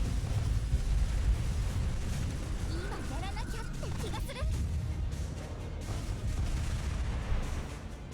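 Ship guns fire repeatedly during an Azur Lane naval battle, a continuous rumble of shots and booms at moderate loudness, with a voice talking over it.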